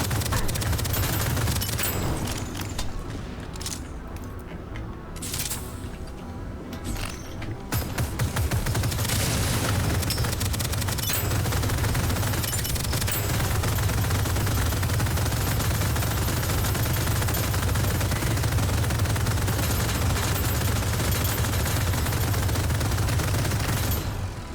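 Continuous automatic gunfire in the sci-fi roguelike shooter Deadzone: Rogue, a loud, dense, unbroken stream of shots with heavy low booms, a brief thinner patch early on, then sustained firing for over fifteen seconds.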